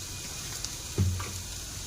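Okra with onion and green chili sizzles steadily in a pan of spices, a soft continuous frying hiss with a brief stir or clink near the middle and no talking.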